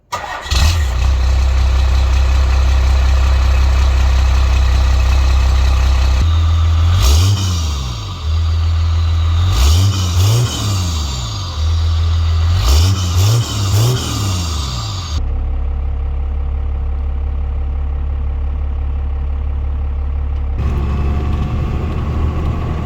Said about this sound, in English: And now we have the Flo Pro exhaust